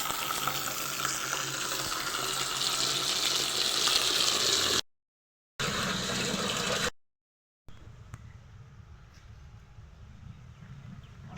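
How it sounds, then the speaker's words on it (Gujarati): Water pouring from a tap into a container before washing a mud-covered two-wheeler, a steady hissing rush that cuts out twice briefly, then continues more quietly with small clanks. "આપણે ભરી લઈએ પાણી."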